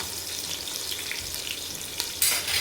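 Ginger garlic paste sizzles and fries in a hot pan for bagara rice, a steady crackling hiss that swells louder near the end as it is stirred.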